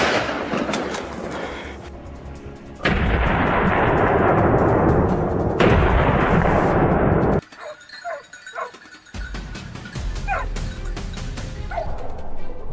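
A single rifle shot brings down a charging wild boar during a farmland ambush hunt, a sharp loud crack followed by a long rolling decay, with farm animal calls and rustling afterward.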